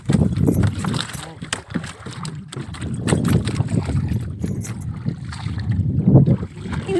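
A small boat moving on a river, with water sloshing and a continuous rumble mixed with wind buffeting the microphone, while people talk throughout.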